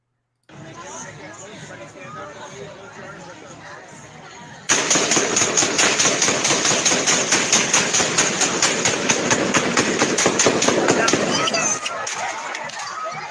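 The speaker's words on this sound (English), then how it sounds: "So here's this video where you hear gunshots." Rapid bursts of gunfire during the Highland Park, Illinois shooting crackle in a dense, fast repeating series over a noisy outdoor background, continuing for several seconds with voices present.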